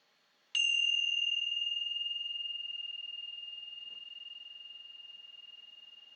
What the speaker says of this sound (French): faire sonner cette cloche qui sera le signe que nous pouvons nous installer dans la posture et fermer les yeux